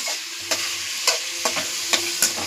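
Squid and noodles sizzle in a pan while a small spoon stirs them, steady frying hiss broken by about six sharp metallic scrapes and taps at a regular rhythm.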